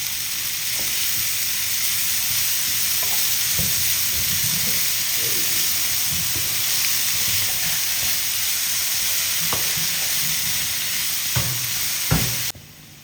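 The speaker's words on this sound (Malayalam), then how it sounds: "ഇതിലേക്ക് ഇനി നമുക്ക് അരിഞ്ഞു വെച്ചിരിക്കുന്ന കുടപ്പൻ ഇതിനകത്തേക്ക് നമുക്ക് ഇട്ട് കൊടുക്കാം." Chopped banana blossom stir-frying in a pan for a Kerala thoran, with a steady close sizzle and occasional scraping stir strokes throughout.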